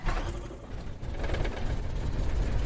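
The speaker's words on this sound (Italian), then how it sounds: "Questo è l'avviamento a caldo" A light aircraft engine hot start: steady, loud mechanical cranking and rattling with a ratchet-like clatter that runs without pause.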